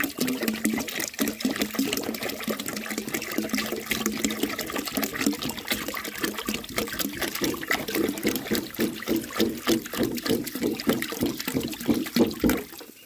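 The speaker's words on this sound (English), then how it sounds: "this uses a little over 4 gallons of water when you flush it with the tank" A 1905 forward-trap toilet flushes from its tank: a steady, close gurgling rush of water with bubbling and trickling that continues throughout without letting up.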